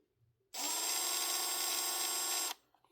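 A Milwaukee M12 FHIR38 speed ratchet with a broken head running its motor: a steady high-pitched electric whine with gear buzz that switches on abruptly, holds for about two seconds and cuts off, close up with no talk.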